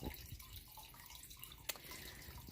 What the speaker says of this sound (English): I've got my little water fountain on.